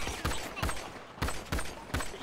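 Gunfire in a GTA roleplay police raid, six sharp shots in an uneven rhythm spread across a couple of seconds, fairly near and punchy, with no talking.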